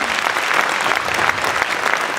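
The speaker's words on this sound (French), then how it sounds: "Je pense qu'on peut encore t'applaudir" Brief, lively applause from an audience after a student's presentation, many hands clapping densely and evenly at close range with no voices.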